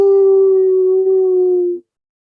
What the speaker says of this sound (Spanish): y si te recordás, Xiomara, oímos un aullido.